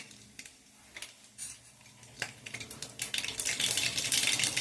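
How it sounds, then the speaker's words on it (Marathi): Mustard seeds dropped into hot oil in a cooking pan begin crackling and popping, starting with sparse clinks and building into dense, sharp spattering that grows louder toward the end. "पाव चमचा मोहरी घालायची आहे,"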